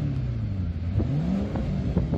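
A 2017 Chevrolet Corvette C7 Stingray exhaust in stealth mode: a low, smooth engine burble idles steadily with a soft rumble and faint pitch swells, subdued and close, with no talking.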